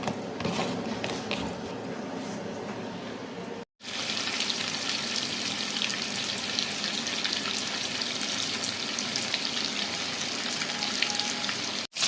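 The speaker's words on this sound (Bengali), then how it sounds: "এদিকে আমি গ্যাসের চুলায় ইলিশ মাছটা সুন্দর করে ভাজা ভাজা করে নিচ্ছি" Hilsa fish, coated in turmeric, chili, salt, lemon juice and coriander powder, frying in oil in a pan on a gas stove, with a steady loud sizzle that cuts out briefly and then resumes, no talking.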